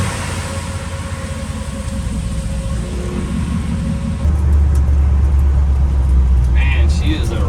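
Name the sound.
Ford F100 truck with Coyote engine swap driving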